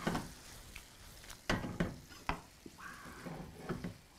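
Shrimp go into a pan of tomatoes for shrimp pomodoro: a faint, low sizzle broken by several sharp clicks and scrapes of stirring, heard close and quiet.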